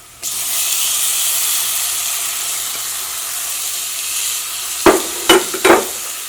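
Tomatoes hit hot frying masala in a pan for an egg curry, with a steady loud sizzle throughout, then three sharp bursts of hiss and clatter near the end as they are stirred in.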